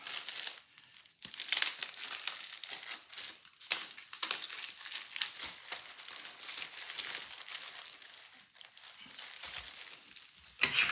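Crinkling plastic shrink-wrap being torn and peeled off an interaction book from a Chronicles of Drunagor Wave 2 Apocalypse board game box, close and continuous with irregular crackles and louder rustling bursts, no talking.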